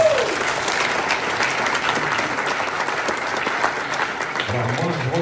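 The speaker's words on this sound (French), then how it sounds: "On peut l'applaudir." Audience applause at a magic convention, a dense burst of clapping from a seated crowd that holds steady for several seconds, with a voice briefly talking over it.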